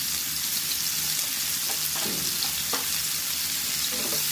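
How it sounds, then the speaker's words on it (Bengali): Cauliflower pieces seasoned with turmeric and salt frying in hot oil in a pan, a steady close broadband sizzle with a few soft stirring clinks, no talk. "ফুলকপিটা আমি হালকা করে ভেজে নেব।"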